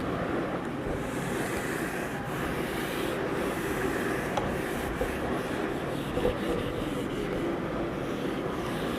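A duster rubs out writing on a board during a maths lesson, giving steady, close, scratchy swishing strokes that run for several seconds with no talking.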